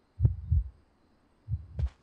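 Heartbeat sound effect in an online competitive video game match, two slow double thumps, low and muffled, standing alone with quiet gaps between.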